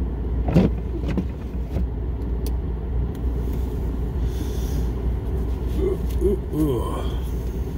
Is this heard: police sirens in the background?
no